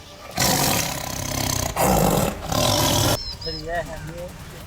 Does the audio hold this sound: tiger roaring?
yes